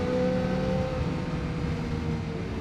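A motorcycle engine runs steadily as the rider rolls on the throttle, holding a sustained, droning tone at close range with no pauses.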